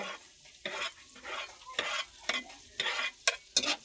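Garlic dropped into melted butter in a pan, sizzling and frying with several bursts of louder crackle and stirring scrapes over about four seconds, close and fairly quiet, no voices.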